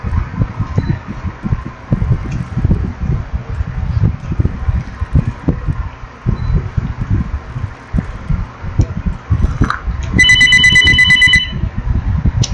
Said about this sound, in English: That is a phone.